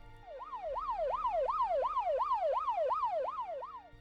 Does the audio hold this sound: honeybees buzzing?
no